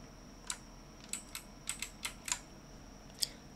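A computer keyboard, used for copying text in the Hangul word processor, clicks with about nine separate, fairly quiet keystrokes spaced unevenly across a few seconds over faint room hiss.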